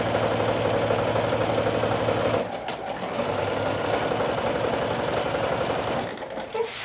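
A sewing machine bastes the skirt pieces of a dress together in a rapid, steady mechanical chatter, running continuously and close with brief pauses and restarts.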